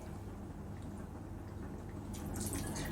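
Red wine is splashed into a cooking dish at home, a short faint pour and drip that brightens briefly near the end against a quiet room background.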